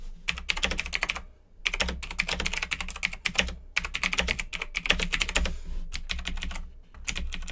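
Bursts of rapid, dense clicking from a Razer BlackWidow Chroma mechanical keyboard being typed on, loud and close, arriving in runs of keystrokes separated by short pauses.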